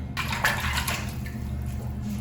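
Water in an indoor immersion pool used for koshering new dishes, a soft steady sloshing and trickle close by, quiet and unbroken, with no one talking.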